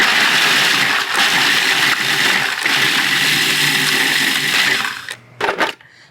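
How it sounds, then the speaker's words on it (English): A food processor grinds vanilla wafers fine, a loud continuous whirring motor roar that runs for about five seconds, then cuts out with a couple of short pulses. "This is made out of vanilla wafers, and you can grind these up in your food processor. Get them very fine."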